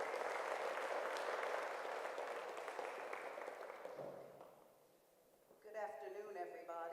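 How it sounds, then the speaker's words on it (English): An audience applauds at a church conference session, with loud, dense clapping that holds steady and then fades out before a voice starts speaking. "Let's give her a round of applause"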